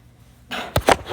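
A single sneeze bursts out in a classroom, a short sharp double burst that comes close and loud over faint room noise.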